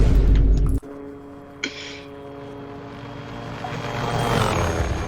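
Helicopter rotor and engine drone in a Finnish-commentated online multiplayer shooter match, starting with a loud burst that cuts off, then a steady mechanical hum with tonal whine that slowly swells louder toward the end.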